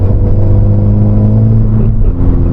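A VW Scirocco engine roars continuously and loudly from inside the car, a steady deep rumbling drone as it is pushed hard under acceleration, with no voices.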